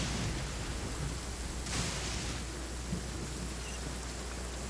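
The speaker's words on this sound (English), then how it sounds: "But it's raining, so it should be quite easy with Lisa." Steady rain falls throughout a Genshin Impact game scene, a dense even hiss with no talk, briefly swelling for a moment midway.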